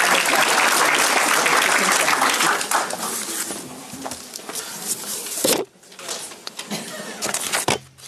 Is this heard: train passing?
no